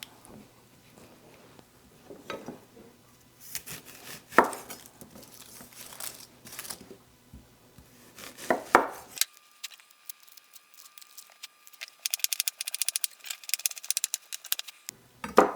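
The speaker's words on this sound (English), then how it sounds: "we need to chop up an onion" Onion being chopped with a knife on a board, irregular crisp cuts and taps in clusters at close range, then a quieter pause before more chopping.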